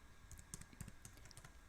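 Rapid keystrokes on a computer keyboard while entering homework test answers, a quiet, steady patter of close clicks with small bursts and brief pauses between.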